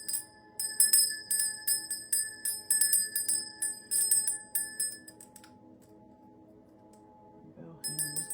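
A hand bell with a slightly loose handle rings in rapid bursts of bright metallic shaking, repeated about a dozen times, then rings out and fades to quiet before a short final jingle, with no talk.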